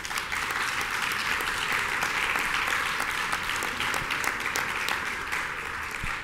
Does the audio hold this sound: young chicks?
no